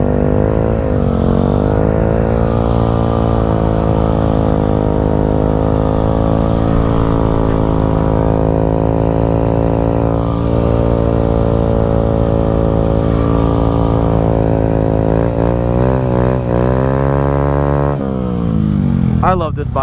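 Honda GROM motorcycle engine held at high revs during burnouts, a loud continuous drone with shifting pitch, close by, ending with a few rougher bursts.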